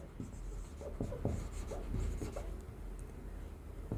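Pen writing math on paper: short scratchy strokes in quick bursts with brief pauses, close and clear, no talking.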